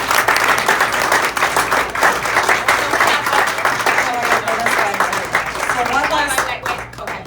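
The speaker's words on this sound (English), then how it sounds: "How about a round of applause for John?" An audience at an honorary club event claps in a loud, dense round of applause that carries on for about seven seconds before starting to thin out.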